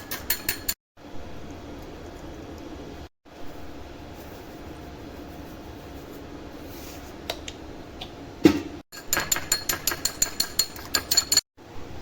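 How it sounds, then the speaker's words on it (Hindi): Eggs are beaten with salt and chilli in a bowl: a steady low background is followed by a quick run of sharp, close, rhythmic taps and clinks near the end. "अंडे को थोड़ा सा फेंट लेंगे और इसके अंदर थोड़ा सा नमक और थोड़ी सी हम मिर्ची डालेंगे।"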